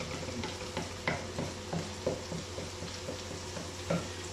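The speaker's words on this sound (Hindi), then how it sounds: "प्याज को करेंगे थोड़ा सा हम फ्राई, इसका कलर चेंज हो जाए" Onions frying in a pan for chicken tikka macaroni, a continuous close sizzle with rhythmic stirring scrapes and clicks about every half second, no talking.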